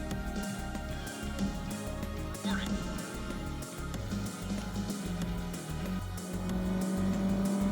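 A racing car engine in the PC game Need for Speed Special Edition drones steadily with rising revs and faint tire squeal, while someone talks over it.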